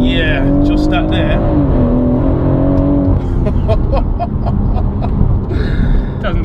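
Close up, a BMW M140i with a Litchfield Stage 2 tune revs and pulls hard, its engine note climbing through a shift, then breaking into rough pops and crackles.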